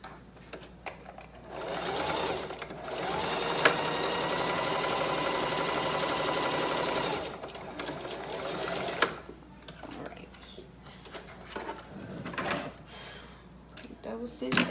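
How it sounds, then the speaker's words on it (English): A sewing machine double stitches a seam, with a steady rapid whirring run of several seconds in the middle, framed by quieter handling clicks and bumps. "we're gonna double stitch it now"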